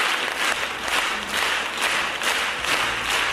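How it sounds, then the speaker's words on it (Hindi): A concert audience applauds a performance, a dense wash of many hands clapping that begins to pulse together in a loose, regular rhythm as the crowd falls into sync. "इस वीडियो में ऑडियंस एक परफॉर्मेंस के लिए तालियां बजा रही है।"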